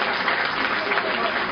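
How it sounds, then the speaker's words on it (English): Audience applause at an awarding ceremony, a steady, moderately loud wash of clapping that runs through the whole short moment without a break. "Round of applause."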